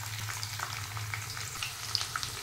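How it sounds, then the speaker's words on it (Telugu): Thinly sliced medium onion frying in hot oil with tempering seeds, a steady soft sizzle with faint crackles, close and continuous without talk. "ఆయిల్ మంచిగా వేడైందండి. ఇప్పుడు 1 మీడియం సైజ్ ఉల్లిగడ్డ ఇట్లా సన్నగా కట్ చేసి వేసుకోవాలి."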